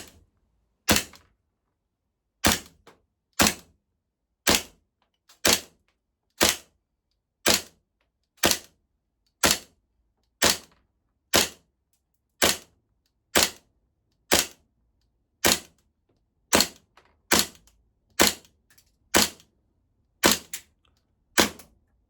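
A VORSK Hi-Capa Vengeance gas airsoft pistol fires a full magazine in a garage, about seventeen sharp, evenly spaced snapping shots at a steady pace, loud and close with no voices.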